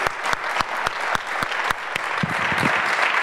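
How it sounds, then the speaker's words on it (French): Audience clapping at a round-table evening, sharp individual claps standing out near the microphone over a busier wash of applause, with some low murmuring toward the end. "je pense que vous pouvez l'applaudir"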